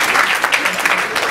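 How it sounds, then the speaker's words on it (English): A crowd claps steadily, a brisk patter of many hands at moderate loudness, with some voices mixed in beneath. "Can we give this a round of applause?"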